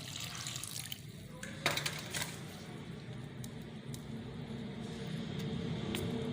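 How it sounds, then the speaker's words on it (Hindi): Water poured into a besan batter for Lahori-style fish fry gives a steady splashing trickle, close and fairly soft, with a few faint clinks in a kitchen. "ये थोड़ा सा पानी ऐड करने लगे हैं।"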